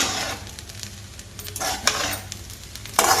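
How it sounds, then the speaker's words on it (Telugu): A spoon scrapes and stirs carrot rice with tender curry leaves in a hot pan, soft sizzling under intermittent metallic clinks against the pan, close and moderately loud. "లేతది కరేపాకు వేసేసుకుని ఒకసారి మొత్తం తిప్పేసుకోవాలండి"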